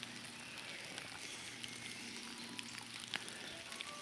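Steady rain falling outdoors on a hiking trail in the Pfalz, a soft continuous patter with scattered drops landing close by, heard alone without voices.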